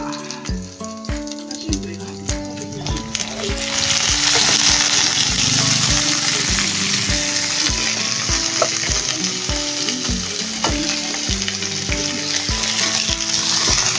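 Beef pieces deep-frying in hot oil for a Korean beef stew, a loud steady sizzle that swells after a few seconds, with repeated clinks and scrapes of a utensil stirring in the pan and no talking.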